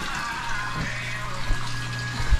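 Water trickles and pours through a sand filter into an artificial indoor creek in an aquatics shop, a steady close wash of flowing water with a low hum underneath.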